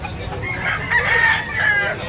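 A white-legged bull stag rooster at a Cebu poultry market crows loudly and close, one sustained call rising and falling over background chatter and clucking.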